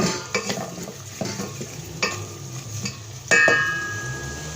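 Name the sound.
stirring mutton pulao ingredients in a pot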